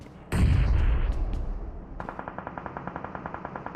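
Gunfire in a shooting video game: a loud blast with a burst of shots, then a rapid steady stream of automatic rifle fire in even, evenly spaced cracks.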